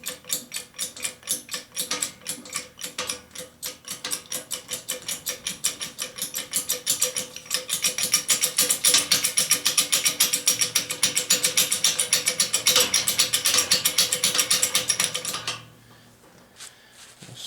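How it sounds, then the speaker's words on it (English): A Harbor Freight 12 ton air/hydraulic bottle jack is pumped to bleed air, giving a fast rattling, clicking mechanical chatter that grows louder and denser before stopping abruptly, close up. "I'm going to go ahead and pump the jack a couple times just to bleed out the air."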